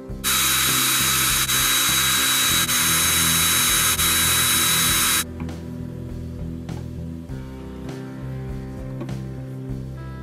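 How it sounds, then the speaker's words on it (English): A loud, high-pitched power drill whines steadily for about five seconds drilling pilot holes in wood for a ukulele kit, then cuts out, leaving quieter workshop noise and a few light knocks. "Next, I'm going to take them back off and drill some pilot holes."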